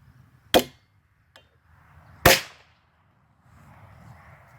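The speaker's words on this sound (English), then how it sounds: "you give it a big hard hit right here to fire the cap" A powder-actuated fastening tool is struck hard to fire its cap while setting concrete forms, giving two sharp, loud cracks about two seconds apart with a faint tap between them and a quiet pause after.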